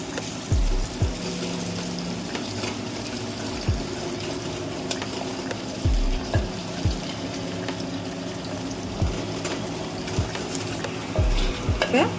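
Curry leaves sautéing in oil in a pan for a dates pickle, stirred with a spoon, with a soft steady sizzle and regular knocking scrapes of the utensil heard near and alone.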